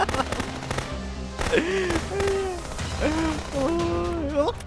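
Gunfire aimed at the player in the video game Contraband Police: several sharp, close shots crack out among game sounds while someone talks excitedly over them.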